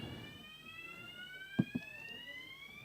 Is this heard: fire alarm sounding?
yes